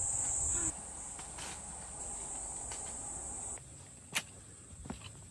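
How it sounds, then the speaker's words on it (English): Cicadas buzz in a steady high drone across a peach orchard on a summer day, fading partway through, with faint scattered bird chirps and small rustles nearby. "Listening to the birds chirping and cicadas buzzing gives off the ultimate summer vibes"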